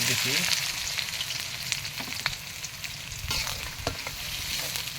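Onions fry and get stirred in a pan for a chicken curry, with a dense continuous sizzle broken by sharp clicks and scrapes of the spoon.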